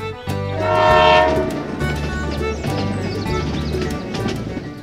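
Toy train pulling into a miniature train station in a DIY model setup, with a loud rolling rumble, whistle-like tonal tones and rhythmic clatter that swell briefly and then carry on steadily.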